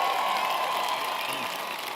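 Audience applause at a climate change discussion with President Obama and Leonardo DiCaprio, a steady wash of clapping from a large crowd that holds at an even level for the whole stretch with no talk over it.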